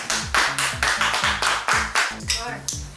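One person on a cooking show claps hands close by in a quick string of about eight claps, with a voice talking over them.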